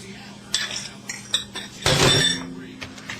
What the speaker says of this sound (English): as we start stirring it in, that baking soda is going to start really fluffing up